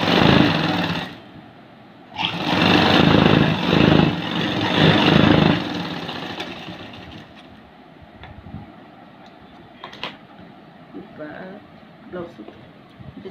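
A sewing machine runs a blouse seam in two loud bursts, a short one and then a longer steady run, before dropping to quieter handling sounds while a person talks close by.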